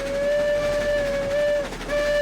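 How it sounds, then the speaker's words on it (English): A steam locomotive whistle from the Railroads Online railway game, on a small porter engine, blows one long steady shrill note for over a second and a half, breaks briefly, then sounds again, loud and close over a faint hiss. "Let's blow the whistle."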